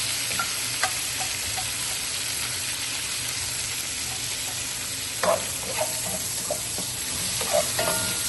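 Garlic and onion fry in butter, giving a steady, close sizzle throughout, with a few brief utensil taps and stirring scrapes breaking through; no one speaks.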